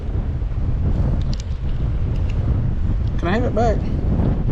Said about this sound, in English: that wind is getting ferocious